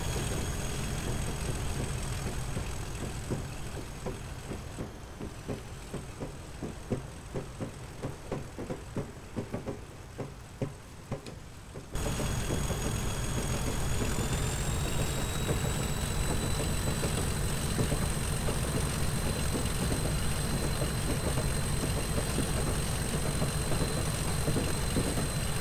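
A Class 37 diesel locomotive on the West Highland Line sits idling with a steady, close engine drone. Rhythmic knocking pulses run through the first half, then the engine note rises and holds level.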